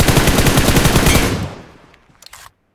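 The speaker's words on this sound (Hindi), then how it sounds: "दो गोलियां मारे हैं" Rapid automatic gunfire from the mobile battle-royale game PUBG Mobile rattles loudly in a fast burst, then trails off, followed by a few faint short pops.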